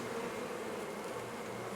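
Honey bees buzz continuously around an open 8-frame deep hive, a dense, steady droning swarm sound, close and unbroken.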